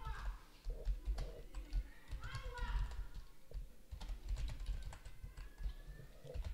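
Quick, irregular clicks of typing on a computer keyboard sound close by, with a voice talking faintly in the background.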